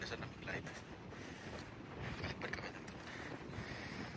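Wind gusts across a hilltop above the sea at Whitesands Bay, Pembrokeshire, a rough rumbling buffet against the microphone that swells and eases steadily throughout, with no one talking.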